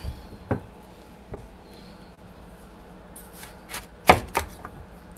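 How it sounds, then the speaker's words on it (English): A knife chops watermelon into chunks in a few scattered strokes, then a quicker pair of cuts on a board, close and fairly quiet. "So I'm gonna cut the watermelon into chunks."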